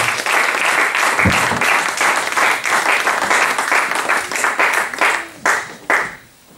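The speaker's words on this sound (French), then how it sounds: "Quand notre pasteur s'approche, nous applaudissons pour le Seigneur." Church congregation clapping as the pastor approaches during a service, dense loud applause sustained for several seconds before tapering off in a few final claps.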